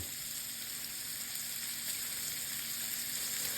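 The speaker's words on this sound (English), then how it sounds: "when you sear it like this, so the outside is cooking fast" A steak sears in a hot pan, giving a dense, continuous sizzle that stays close and even throughout with no breaks or talking.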